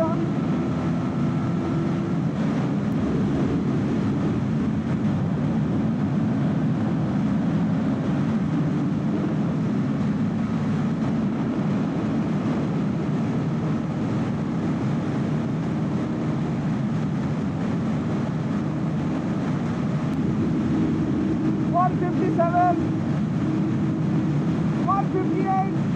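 A Honda CBR 250 Repsol Edition motorcycle runs flat out near top speed, a steady loud engine drone mixed with heavy wind rush that holds unbroken throughout, with a few faint higher tones late on.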